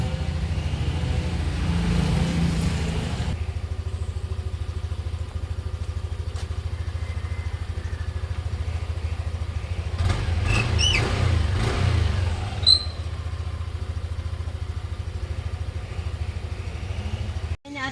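A motorcycle engine warms up in the morning, idling in a steady low throb close by. It shifts and swells briefly partway through, then settles and cuts off at the end.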